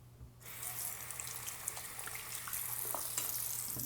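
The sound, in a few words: rinsing whetstone under running tap water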